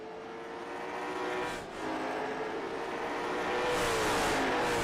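Race cars on a short oval bullring track roar steadily past at close range, engine drone rising and falling as cars lap, with a brief dip before the noise swells again; no talking.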